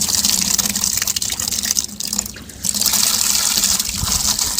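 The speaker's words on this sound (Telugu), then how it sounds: "వాటర్ తిప్పి పెడతాను" Water runs from a tap that has been turned on, a loud continuous gushing stream close by that dips briefly before surging back to full flow.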